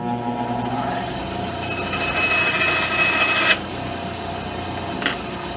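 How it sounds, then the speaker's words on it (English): A 30-year-old Delta stationary bandsaw cuts a wooden piece to length in a home workshop. It gives a steady, close whine and rasp that builds, then stops abruptly, followed by a sharp knock a moment later. "to cut it to length, I'm going to use my my oldest stationary tool in the shop. It's my 30-year-old Delta bandsaw"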